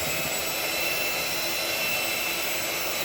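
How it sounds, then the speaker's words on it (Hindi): An electric blender mixes cake batter for a walnut and blackcurrant butter cake after sifted dry ingredients are added. It gives a steady, loud, even whir that runs throughout without talk. "अब हम इसे फिर से एक बार फिर से ब्लेंड कर लेते हैं।"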